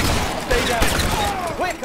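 Gunfire in the detective game L.A. Noire, sharp shots bursting amid a busy mix of game sound and overlapping voices, loud and close with a few distinct cracks across the short stretch.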